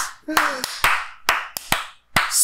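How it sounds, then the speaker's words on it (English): Slow clapping of hands, roughly eight separate claps at uneven, unhurried intervals, close and fairly loud, with a short vocal tone near the start. "Slow Bravo. Clap for that."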